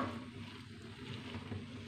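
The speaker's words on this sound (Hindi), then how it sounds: "अब हम इसमें जो बारीक कटी हुई शिमला मिर्च रखे थे इसमें ऐड कर लेंगे। इसको अच्छे से मिक्स कर लेंगे।" Chopped capsicum sizzling steadily in a hot pan while being stirred, a continuous close, moderately loud frying hiss with faint scraping, no voices.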